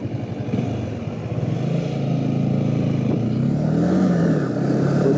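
A Honda CB300F Twister motorcycle on a test ride revs with a loud, close engine note that rises in pitch midway and holds high, with no one speaking.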